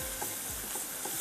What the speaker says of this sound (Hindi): मैदे को हम भून रहे हैं बटर के साथ